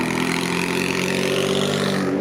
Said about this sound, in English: that's a loud muffler right there